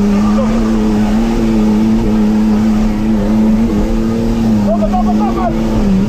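An off-road race car engine drones loud and close at a sustained pitch during a Serbian off-road trophy race, holding steady with slight rises in revs while people shout instructions over it.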